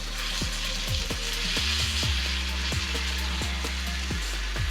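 Lamb loin chops sizzle steadily in hot grease on a Blackstone griddle, a close, continuous crackling fry with regular soft clicks or taps recurring about every half second.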